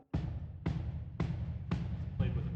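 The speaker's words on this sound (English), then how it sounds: "We have a bass drum, or kick drum as it's called" A drum-kit bass drum, struck with a pedal, gives five deep, booming thuds at a steady pace of about two per second, close and resonant, with no other instruments.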